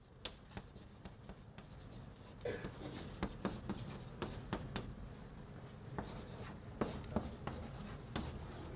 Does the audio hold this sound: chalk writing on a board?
yes